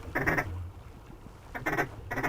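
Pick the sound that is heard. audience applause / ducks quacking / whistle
ducks quacking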